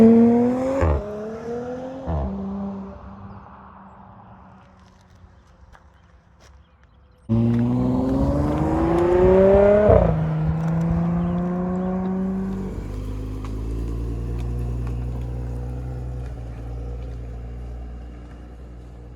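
Audi B9 S5 with an aftermarket RedStar downpipe accelerating hard, the exhaust note climbing steadily in pitch through two strong pulls, loud and close, then settling into a lower steady drone.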